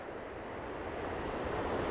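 Ocean surf crashing over rocks as a steady, broad rush of water, building slightly, with no voices.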